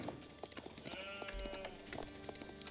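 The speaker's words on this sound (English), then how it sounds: "That's a lot of sheep, Hera." Sheep bleating in the Age of Empires 4 strategy game, several short wavering calls over quiet game ambience.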